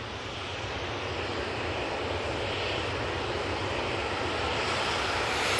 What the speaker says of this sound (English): It's the Gulf Air 787-9 Dreamliner coming in from Bahrain.